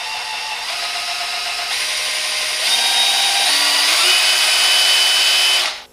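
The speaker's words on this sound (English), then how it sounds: "Now the drill, Porter Cable PCC607." A Porter Cable PCC607 cordless variable-speed drill runs steadily and loudly on its own for about six seconds, its whine stepping up in pitch as the trigger is squeezed further, then cutting off abruptly at the end.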